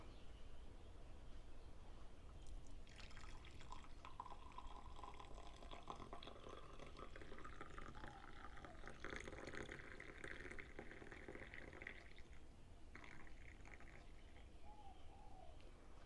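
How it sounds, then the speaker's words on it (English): Coffee pours from the carafe of a Cuisinart PurePrecision pour-over automatic drip coffee maker, a soft, steady liquid stream heard up close and quietly, running for several seconds with a brief pause near the end. "let's see if this spills out when I pour"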